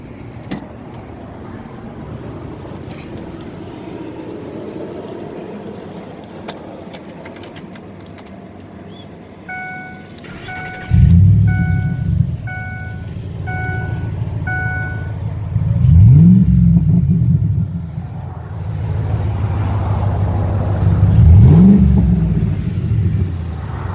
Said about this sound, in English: here I'll start it so you can hear how the exhaust sounds